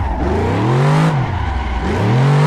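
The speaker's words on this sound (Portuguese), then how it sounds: "Você dá uma acelerada e deixa. Ó. E basicamente ele faz drift." A car in Assetto Corsa accelerating and drifting at the Betim kart track, the engine revving loud and close, pitch climbing, dipping briefly, then rising again as the car slides.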